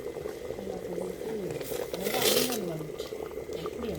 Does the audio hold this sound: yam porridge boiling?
yes